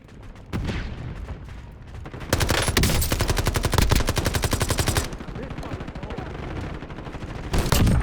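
An assault rifle in Call of Duty: Warzone fires a long sustained automatic burst of sharp, evenly spaced shots, loud and close, with a few single shots before it and another burst at the end.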